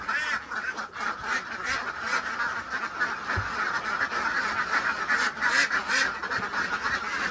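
A flock of farm ducks kept for egg laying in a shed quack continuously in a dense, overlapping chatter, close and steady throughout.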